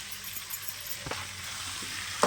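Five chopped apple tomatoes fry and sizzle in a pan for sardine fish curry, a soft continuous crackle with a few stirring knocks and a sharp scrape near the end.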